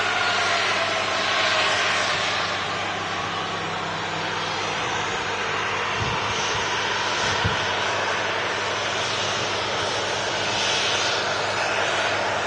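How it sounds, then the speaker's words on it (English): A Turkish Airlines Airbus A321neo jet arriving from Istanbul roars steadily as it comes in to land, a loud, sustained broadband engine rumble with a faint low thud or two midway, no voices. "It's a Turkish A321neo."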